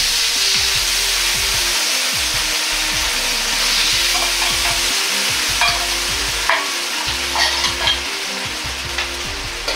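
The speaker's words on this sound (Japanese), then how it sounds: "火を強くして牛肉にタレを絡めるようにして炒め合わせます。" Beef sizzles and crackles steadily in a hot pan over high heat, stir-fried in oyster sauce with ginger, with occasional scraping stirs and a constant hiss of frying.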